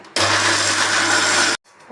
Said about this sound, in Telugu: తగినంత చక్కెర అండి, పాలండి సరిపడన్ని మిక్సీ వేసుకోవాలి